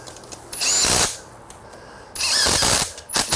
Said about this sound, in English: Now we'll just come around and hit these bolts, and the fork arms will be on.